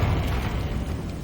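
Confringo blasting spell going off in Hogwarts Legacy, a short, heavy explosive boom with a low rumbling body that fades over about a second.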